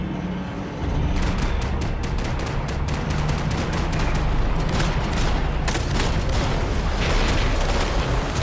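Sustained gunfire rattles in Max Payne: rapid repeated shots crack in dense bursts over a loud, continuous backdrop of game noise, close and intense throughout.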